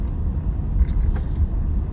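A single car passes far off on an open road at night, a low steady rumble of engine and tyres that swells faintly and fades, with no talk over it.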